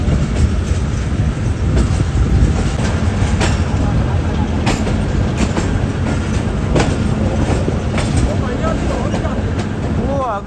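Passenger train pulling out of Kot Lakhpat station in Lahore, a steady rumbling roll with faint rail clatter under a loud, constant din, and people talking nearby.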